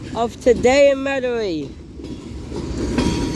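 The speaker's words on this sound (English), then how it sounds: "BNSF Dash 9 5187 leading a one-engine BNSF manifest coming off the Huey P. Long Bridge" A BNSF Dash 9 locomotive leads a one-engine manifest freight train off the Huey P. Long Bridge near Metairie. Its low rolling rumble builds steadily after a short spoken phrase.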